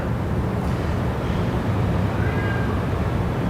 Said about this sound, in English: You can still hear the cat.